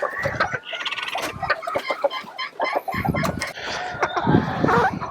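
Bantam chickens, including a hen, clucking and squawking close by in a coop, a busy overlapping run of calls with a short quieter gap partway through.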